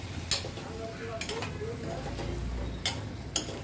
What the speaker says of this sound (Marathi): ह्या आपण कोलब्या आहेत ना ते आपण याच्यामध्ये घालून घेऊया चांगल्याचं परतून घेऊया जरा